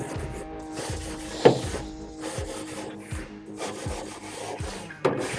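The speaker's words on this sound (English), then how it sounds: "I can push down and really clean those grates" A grate scraper with a handle and head is pushed down across grill grates, producing rough rhythmic rubbing and scraping strokes with a couple of sharper metallic knocks, close and fairly quiet.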